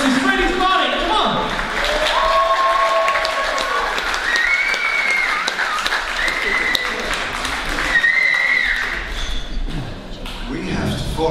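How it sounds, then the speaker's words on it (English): An audience applauds a live band after its set, sustained clapping and crowd noise running throughout with whistles or cheers rising above it and a voice talking over the top. "Another round of applause for that."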